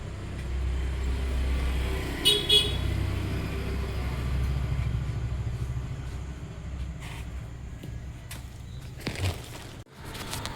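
A delivery vehicle bringing a load of rice to a grocery shop gives a low engine rumble that fades over several seconds, with brief bangs and faint talk.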